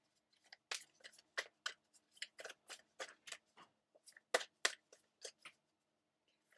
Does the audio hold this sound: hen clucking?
no